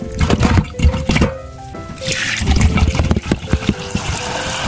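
Rice is rinsed twice in salted water before boiling, giving wet sloshing, dripping and pouring sounds close up that come in uneven bursts, with no voices.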